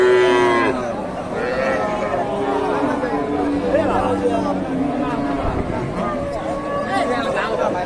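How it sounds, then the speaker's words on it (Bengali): Cows at a busy traditional cattle market in Bangladesh moo loudly and repeatedly, long drawn-out calls rising over the hubbub of a crowd and nearby voices talking. "উনি অনেক বড় সড়ো একটা গাভী"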